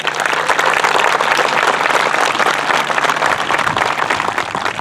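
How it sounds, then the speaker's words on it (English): A graduation crowd applauds steadily for a student, a dense continuous roar of many hands clapping at moderate volume, lasting the whole stretch without talk. "Let's give Sierra another round of applause."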